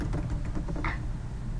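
Keys tapped on a computer keyboard while entering a command in AutoCAD, a quick run of soft clicks over steady background hiss.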